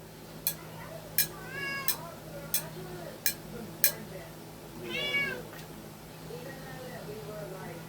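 A pet cat meows once, loud and close, after a series of sharp clinks and ticks, with a steady background hum and fainter meows or squeaks afterward.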